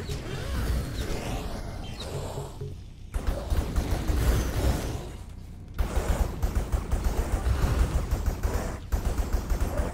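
Turret gunfire in the game Skyforge rattles through dense combat noise, settling into a steady, rhythmic series of repeated shots in the second half.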